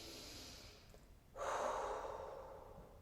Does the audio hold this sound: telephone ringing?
no